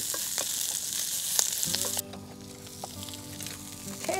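Green onions sizzle and fry in a pan for a cottage-style bacon and eggs breakfast, a loud steady crackle that drops sharply partway through as the pan is tossed and stirred, with clinks and scraping following.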